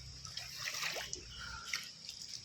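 Floodwater rushes and splashes steadily during a typhoon in Iligan City, a faint, close-miked wash with scattered drips and splatters throughout.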